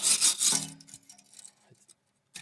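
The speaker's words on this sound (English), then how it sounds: "Wire brush as best as you can. Get all that rust and dirt and flakes off." A wire brush scrubs rust, dirt and flakes off a ball joint stud on a Mitsubishi Delica L400, with a few loud, close rasping strokes at the start, then faint scraping and knocks.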